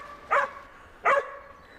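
Two sharp barks from hunting dogs that have a goat bailed up in hill country, each a short loud burst about three-quarters of a second apart, standing out against a quiet outdoor background.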